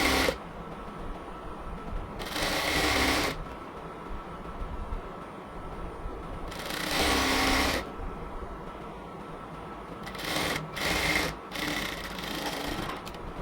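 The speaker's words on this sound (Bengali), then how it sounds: "পরে এবার আস্তে আস্তে সেলাইটা করতে হবে" A sewing machine stitches lace onto a salwar pant in bursts of steady whirring, with three louder runs separated by quieter stretches and a few short stop-start stitches near the end, close and alone.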